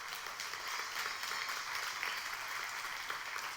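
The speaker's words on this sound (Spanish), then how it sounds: "Dale ese aplauso a Dios." A church congregation gives a sustained round of applause during a Spanish-language sermon, a faint, even wash of many hands clapping at a distance.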